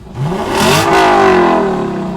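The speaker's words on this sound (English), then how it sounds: "it certainly sounds like a sports car in that mode" A 2018 Lexus LC 500 revving hard in Sport Plus mode, a loud, close engine note that climbs in pitch and holds a sustained roar for about two seconds, with no talk over it.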